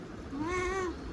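A single drawn-out cat meow, clear and close, rising then falling in pitch over about a second, with faint room noise and no talk.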